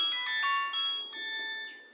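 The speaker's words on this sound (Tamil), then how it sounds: "பார்த்தீங்கன்னா இப்போ ரிங்டோன் சவுண்டு வருது." A Nokia keypad mobile phone plays its ringtone, a bright electronic melody of short repeated tones, moderately loud and alone, with no voices.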